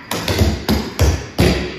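Four sharp foot stomps and knock steps from a dance routine land on a hard floor at an irregular pace, each a close, punchy thud with a short decay, and no talk.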